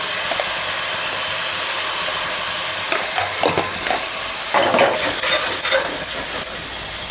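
Fenugreek leaves fry in hot oil while cooking a fish curry, giving a steady close sizzle and hiss, with stirring scrapes and louder bursts of sizzling partway through.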